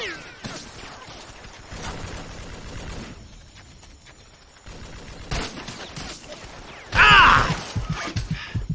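Gunfire in the Vietnam war shooter Vietcong: several bursts of shots with a louder, sharper volley near the end, mixed with game sounds and background noise.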